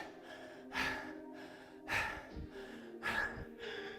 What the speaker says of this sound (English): Is your breathing as heavy as mine?